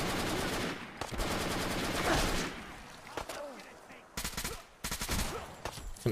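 IF 54 battle rifle firing in Fallout 4, heard as loud rapid bursts of gunfire that break off and return in short volleys, with game combat noise between the shots.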